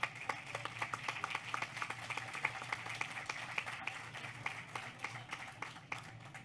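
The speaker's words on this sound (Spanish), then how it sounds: "Un fuerte aplauso para Emilio." Audience at an academic panel on teacher wellbeing gives a steady round of applause, many hands clapping in a dense, even patter throughout, moderately distant in a hall.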